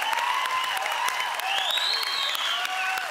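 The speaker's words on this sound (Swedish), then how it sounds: "jag vill inte sluta klappa riktigt" Applause from a TV talent-show audience during a Swedish Idol qualifying-week broadcast, a steady wash of clapping with crowd noise and bright tonal sweeps over it, sustained and even throughout.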